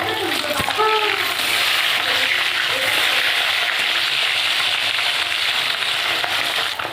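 Small rohu fish pieces sizzling in oil in a wok after being turned over, a continuous close hiss and spatter with a few light clinks near the start, steady throughout.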